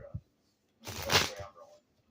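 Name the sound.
shuffling tarot cards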